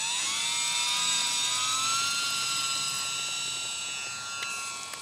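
Small E-flite UMX Timber RC plane flying overhead, a high buzzing electric motor whine with shifting pitch as it passes, loud at first then fading slightly.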